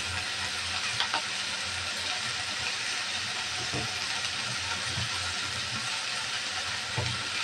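Bitter gourd frying in a pan with salt, a dense continuous sizzle and hiss close by, with a few soft stirring knocks and no talk.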